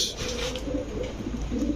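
A pigeon family with a young squab coos in low, rolling bursts close by, the soft throaty calls repeating over a steady background.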